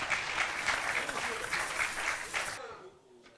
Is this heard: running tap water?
no